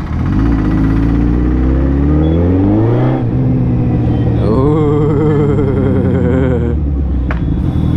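A Suzuki Hayabusa motorcycle engine chugs along at low speed, around 30 km/h, in a loud, close, steady drone whose pitch rises and falls as it gently accelerates, with no talking.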